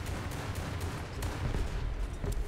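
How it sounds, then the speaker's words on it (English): Anti-aircraft barrage rattling on in a War Thunder naval battle, a dense, continuous wash of rapid distant bursts with occasional sharper cracks standing out, steady and loud throughout without a break. "we've just got AAA barrage going off already"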